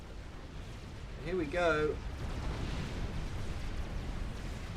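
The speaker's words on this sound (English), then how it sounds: "The nuke barrage comes in." A nuke barrage in a strategy video game rolls in as a steady, heavy rumble of distant explosions that lasts throughout, with someone speaking briefly over it early on.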